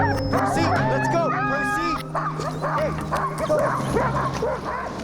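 Sled dogs bark, yip and whine excitedly on the Yukon River before a race, a dense chorus of overlapping barks close by and continuous, with people talking and calling out over the pack.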